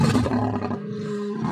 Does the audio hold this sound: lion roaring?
yes